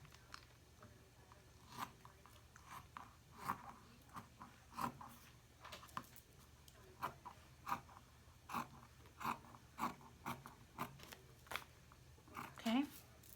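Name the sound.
cutting the end of a no-sew Christmas stocking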